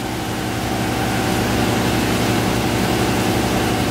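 A closed-cooled engine on a 2011 Sea Ray 280 Sundancer motor yacht runs steadily during a sea trial, a loud, constant low drone with a rumbling hum that holds even throughout.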